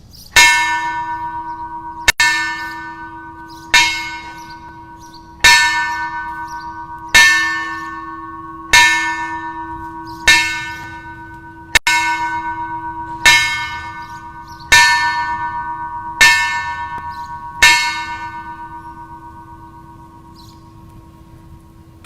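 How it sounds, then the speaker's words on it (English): A memorial bell at a police service for fallen officers tolls twelve evenly spaced times, each loud ringing strike decaying slowly into the next, with no talking in between. "Let us now toll the bell 12 times so that the memory of these men may echo in eternity."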